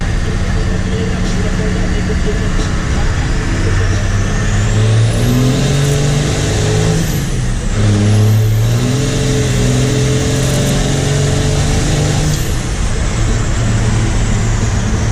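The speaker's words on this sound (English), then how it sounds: "let's hop in the Cummins, guys, and let's go cruise over to the junkyard" A Cummins diesel truck drives and accelerates with a steady, loud mid-range engine drone that rises and falls through gear changes, the motor running continuously under the whole stretch.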